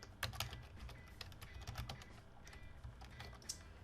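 Typing of VBA code on a computer keyboard, a quick irregular run of close, light key clicks continuing throughout, quiet and with no talking.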